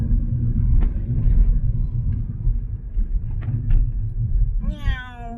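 A cat meows once near the end, a short rising-falling cry at a heritage railway, heard over a loud low rumble of engine or machinery that fills the background.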